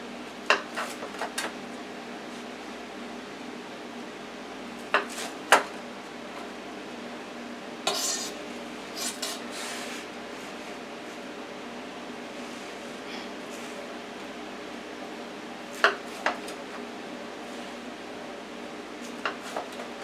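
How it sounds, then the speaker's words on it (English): A knife cuts a grilled tortilla into small slices on a board, with scattered sharp taps and clacks over a steady room hum and some talking. "And then you want to just cut like little slices of pizza."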